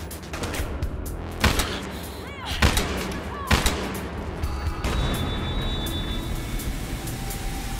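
Gunfire rings out in Battlefield Hardline, a police-versus-criminals shooter, with several loud, sharp shots spaced a second or so apart over a busy rumbling background, then softer scattered noises and a thin electronic tone.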